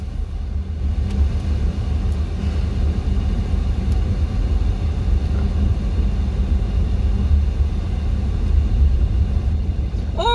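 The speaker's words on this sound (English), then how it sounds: "The Amazon truck's also finally pulling away." An Amazon delivery truck pulls away on a hot street, a steady low engine rumble that holds at moderate volume across the whole stretch without any talk.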